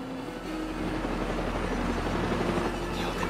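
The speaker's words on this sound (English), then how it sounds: "I'll take that helicopter down with you in it." A helicopter in the video game Far Cry 6 produces a dense, steady rotor and engine drone that fills the short stretch without pause, loud and close, with no talking over it.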